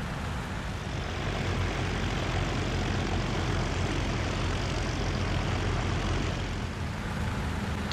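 Hs 129 B-2 twin piston engines idling before taxi in a flight simulator game, a steady loud propeller drone with a deep low rumble, constant and unbroken.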